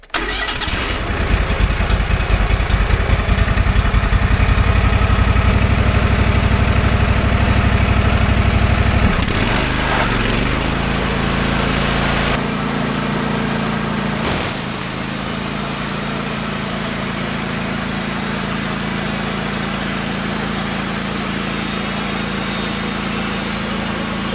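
A newly delivered sawmill's engine cranks and starts, then runs loud and steady, dropping in pitch to a lower idle partway through and holding there to the end with no talking.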